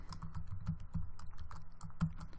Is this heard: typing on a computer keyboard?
yes